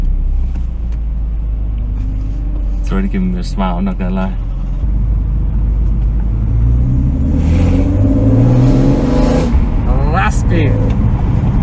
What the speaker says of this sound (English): we're gonna start this car and see what it sounds like